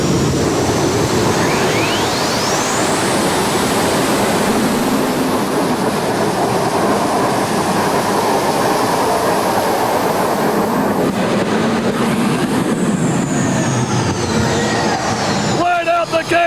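Modified tractor engine at a 1991 NTPA 7200 Modified tractor pull at the Indy Super Pull, roaring loud and close in one continuous, building blast from start to finish.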